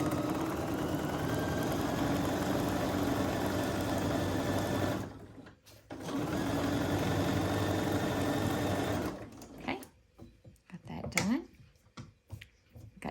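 A sewing machine runs in steady bursts while stitching a quilt block, stopping briefly in between, followed by quiet handling clicks and small rustles near the end.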